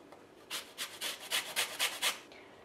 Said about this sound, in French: Attention à ne pas râper la partie blanche sous le zeste qui s'appelle le zeste et qui est plus amer